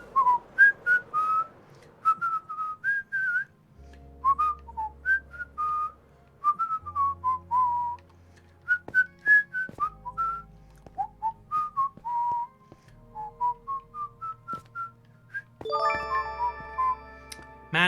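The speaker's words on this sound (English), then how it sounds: "Man, when I've just drank, it's way harder to whistle" A person whistles a wandering tune of short, separate notes with brief gaps between them, close and fairly loud, with a few soft clicks and background tones in a Minecraft world.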